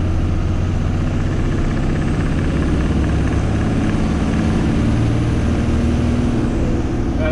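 Vehicle engine pulling under throttle on a highway, climbing from about 1400 to 2000 RPM while accelerating from 60 to 96 km/h, before an intercooler swap; a steady, loud, close drone with road noise throughout.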